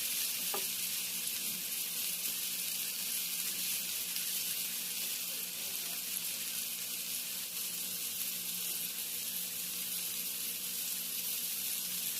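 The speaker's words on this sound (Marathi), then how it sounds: "काट्याच्या साह्याने कोलंबी पलटून दोन्ही साईडनी गोल्डन कलर येईपर्यंत फ्राय करून घेऊ" Prawns shallow-frying in a pan until golden, a loud, dense and continuous sizzle heard up close for the whole stretch, with faint scraping as they are turned and no voices.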